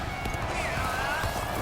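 Horse hoofbeats in the video game Dynasty Warriors: Origins, a continuous galloping clatter set within dense battle noise and game sound.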